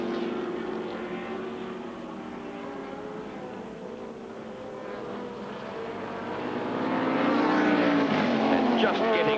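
Sports racing cars lapping Lakeside in a 1983 Australian Sportscar Championship heat, among them a Kadicha 2-litre, their engines droning steadily and then swelling louder as one draws near.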